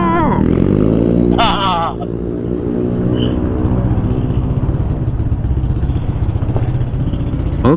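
Motorcycles rev hard at full throttle on a road at night between Wanayasa and Purwakarta, a loud, close engine drone with rising whines as bikes pass, all under steady low rumble.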